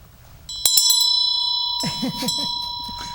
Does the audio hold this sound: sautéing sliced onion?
no